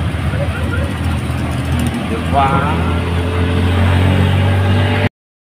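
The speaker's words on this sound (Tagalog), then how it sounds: "At talaga naman mga sasakyan, mamadali pag-uwi." Road traffic passes on the way toward Manila, heard as a continuous rumble of car and truck engines with a steady drone. A person speaks briefly over it.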